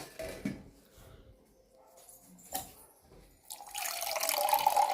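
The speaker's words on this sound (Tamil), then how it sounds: "கொஞ்சம் தண்ணி ஊற்றிட்டு" After a few soft knocks and clatters, water pours steadily into a container, a close splashing stream that continues to the end.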